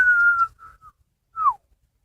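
A person whistles a long steady note, then a short pair of fainter notes, and after a pause a final falling note, each sound near and clear against silence.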